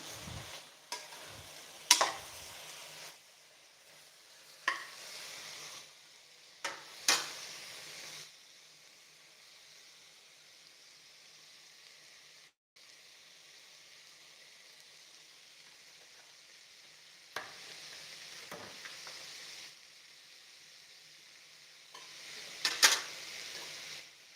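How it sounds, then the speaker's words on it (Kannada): Amaranth greens sautéing in a little oil in a pan, with a low steady sizzle broken by several sharp scrapes and clinks of a spoon stirring against the pan. "ಸ್ವಲ್ಪ ಆಯಿಲ್ ಒಗ್ಗರಣೆ ಆಯಿಲಲ್ಲೇ ಈ ರೀತಿ ಬಾಡಿಸ್ಕೊಳ್ಳೋದ್ರಿಂದ ರುಚಿ ಚೆನ್ನಾಗಿರುತ್ತೆ"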